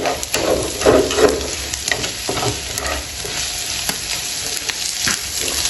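Tuna sisig frying in a pan while being stirred, a bright continuous sizzle with frequent scraping and clattering spatula strokes, loud and close, no voices.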